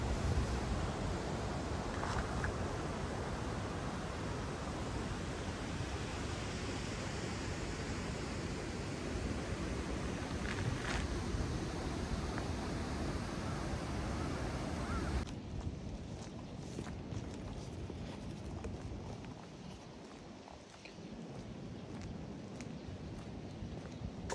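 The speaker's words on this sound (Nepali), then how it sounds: "यति बेला एकदमै यो खोलामा पानीको बहाव बढेको देखिन्छ।" A swollen stream in rural Korea rushes strongly with a steady, loud broadband roar. Partway through, the tone shifts slightly quieter and thinner, but the flow stays continuous and nothing else is heard.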